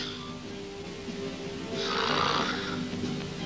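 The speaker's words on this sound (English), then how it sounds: "he's mute, but he can sure snore" A man snores loudly and steadily in a film scene, one long rasping breath swelling and fading with no talk over it.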